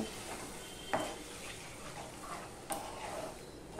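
Ghugni spice masala with coriander powder and a splash of water sautéed in a pan, giving a quiet, even sizzle with a couple of sharp utensil knocks against the pan.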